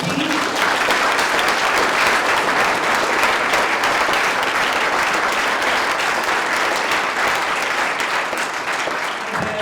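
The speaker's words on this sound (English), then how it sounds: "give up a round of applause for our 16." Sustained applause from a sizable crowd at a startup demo day, dense and steady clapping throughout with no pauses.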